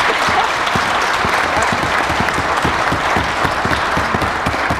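Applause rings out from a legislative assembly gallery as a steady wash of many hands clapping, sustained and fairly loud throughout with no break.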